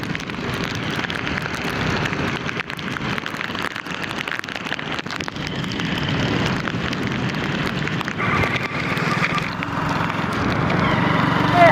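Heavy rain drums steadily on the roof of a roadside shed on a mountain road, its dense patter growing slightly louder over time and continuing without any break.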